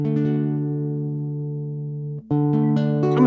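Acoustic guitar strummed and let ring during a sound check, sustained chord tones fading before a second strum near the end, heard up close with no talking.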